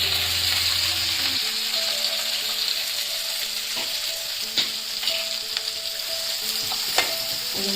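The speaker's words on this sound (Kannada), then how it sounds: "ಸ್ವಲ್ಪ ಕೆಂಪುಗಳ ತನಕ ಫ್ರೈ ಮಾಡ್ಕೊಳ್ಳೋಣ" Mustard seeds, garlic, curry leaves and onion fry in hot oil with a loud, steady sizzle. Occasional stirring knocks and scrapes come over the hiss, and a faint tonal hum runs beneath it.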